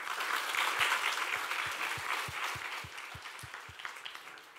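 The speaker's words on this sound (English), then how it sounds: "one last round of applause for our speakers" Audience applause closing a scientific conference oral session for the speakers, a dense, steady round of clapping from a sizeable hall that holds strong and then slowly tapers off, with no talk over it.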